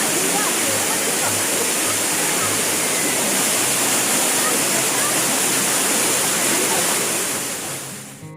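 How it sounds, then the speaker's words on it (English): A waterfall at Nandi Valley near Bangalore rushes as a dense, steady roar of falling water. It is loud and continuous throughout and fades slightly at the very end. "After enjoying the beautiful waterfalls,"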